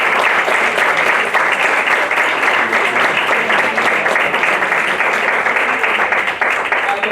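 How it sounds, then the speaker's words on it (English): A lecture audience on the Spanish Constitution and Catalan secession gives a final round of applause: dense, steady clapping from a full room, loud and unbroken from start to finish. "I think, a final round of applause."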